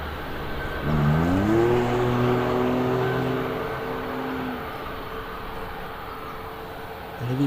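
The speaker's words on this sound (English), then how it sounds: "if you picked that noise up in the background, it was definitely a car" A car accelerates close by beside a Birmingham airport viewing spot, its engine note rising in stepped gear changes and then holding steady, loud and alone.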